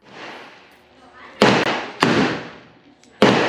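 Three sharp, loud gunshots from a .45 ACP pistol firing Lee 452-228-1R cast 230-grain round-nose bullets at an outdoor range, irregularly spaced, each a hard crack with a short decaying tail.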